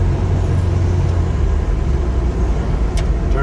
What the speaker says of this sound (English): I go down here and go through the gears just one more time.